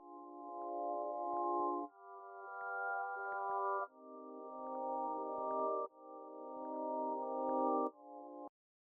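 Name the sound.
synth pad from Sky Keys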